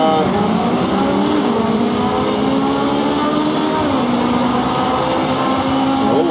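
An engine revs up and down as a race car from the arcade racer Super Woden GP corners, loud and close. The pitch climbs and dips in smooth sweeps over a constant roar.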